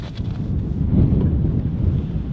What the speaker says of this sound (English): Yes, it is very windy, guys.